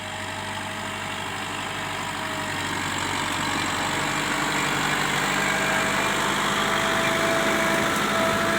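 The diesel engine of an M6040 tractor idles steadily and fairly loudly nearby, a constant rumbling drone that grows slightly louder over time.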